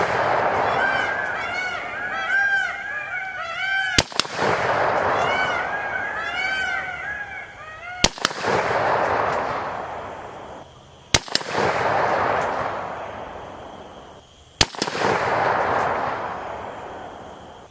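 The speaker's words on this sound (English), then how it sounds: "Alright, I'm firing." Four sharp, loud rifle shots of tracer rounds fired from a Tula TOZ-122 at a car, spaced about three to four seconds apart, over steady outdoor background noise with warbling bird-like calls early on.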